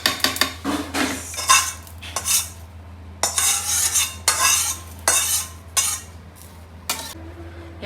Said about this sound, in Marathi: बस हा सगळा भाजलेला मसाला ह्याच्यामध्ये टाकायचा आहे.